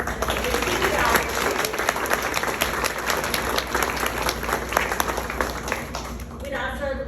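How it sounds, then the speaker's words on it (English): Sustained audience applause for fifth graders at an elementary school promotion ceremony, with many hands clapping in a dense, steady wash that fades near the end as talking starts. "I'd like to give another round of applause to our fifth graders."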